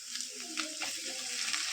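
Garlic frying in coconut oil for Mangalore-style chicken sukka, a steady close sizzle and crackle with faint stirring sounds, alone and continuous throughout.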